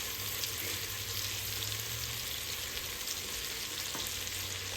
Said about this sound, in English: toss all your soup meat. That way you get a nice even browning along all the edges